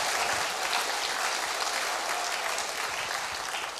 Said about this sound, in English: Round of applause to Dave Long.